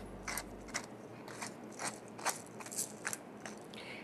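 A pepper mill grinds black pepper over a finished salad, a close, quiet run of rhythmic crunchy ratcheting twists, about a dozen short gritty bursts with no talking.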